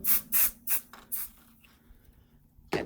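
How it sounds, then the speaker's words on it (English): Several short hissing bursts of an aerosol adhesive spray, close by, followed by quiet and a brief rustle at the end. "Get some adhesive spray on there."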